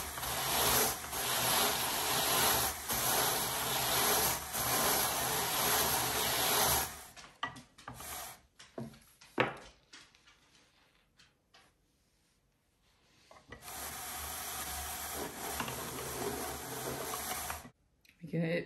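Coopworth locks being burnished onto an art batt on a hand-cranked drum carder: a steady, loud brushing and rubbing whir for about seven seconds, then scattered rubs and clicks, then the continuous carding sound resumes.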